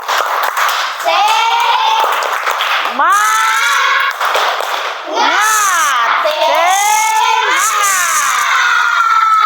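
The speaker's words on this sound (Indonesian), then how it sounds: "Kita tepuk semangat" A group of children in a classroom does a spirit clap: rhythmic bursts of clapping mixed with loud, excited chanting and shouting voices that rise and fall throughout.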